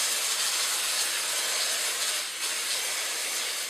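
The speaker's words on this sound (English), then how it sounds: "cover them with a nice coating of non-stick spray" Non-stick cooking spray is sprayed onto cake pans, producing a steady, close, hissing aerosol spray that continues for several seconds with no talk.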